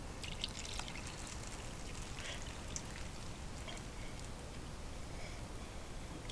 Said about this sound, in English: You want to fill your pot up as much as you can, okay?